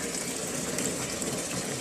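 Water from an aquaponics system pours steadily into a fish tank, a continuous broadband gush and splash that holds an even level from start to finish with no voices over it.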